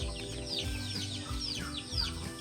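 Farm turkeys on a countryside farm in Cagayan, Philippines, gobble and cluck at feeding time. Repeated short calls come from several birds at moderate distance over a constant low background, with no talk.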